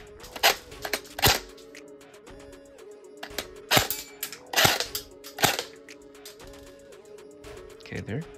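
An airsoft gun fires during a gearbox FPS test, giving several sharp, loud single snaps at irregular intervals over a steady hum, with a voice talking between shots.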